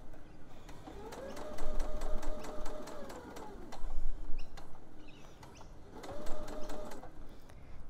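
A sewing machine stitches fabric in two quick bursts of rapid, even clatter, pausing briefly between them as the seam is turned around a corner, close and fairly loud.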